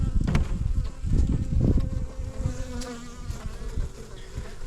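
Honeybees from a package colony buzz close by, a dense, continuous drone with louder swells as individual bees pass near, with no talking.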